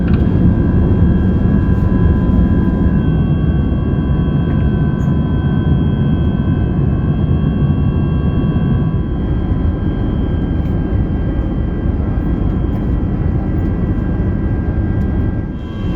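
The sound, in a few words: British Airways Airbus A380 cabin noise in flight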